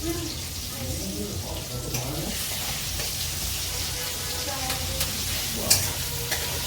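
Oil sizzles steadily in a pan while egg curry cooks at home, with stirring scrapes and occasional clinks; voices talk over the frying.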